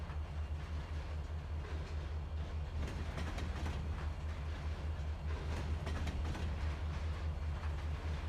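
Railroad car trucks rolling along track in the Trainz 2022 train simulator, a steady low rumble with faint rhythmic clicking continuing throughout, moderately loud with no talking.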